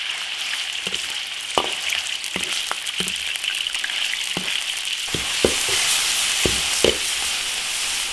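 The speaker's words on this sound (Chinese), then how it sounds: "肉下锅炒。" Pork stir-frying in oil in a wok: a continuous bright sizzle with sharp, irregular scrapes and clacks of a spatula against the pan, close and alone without speech.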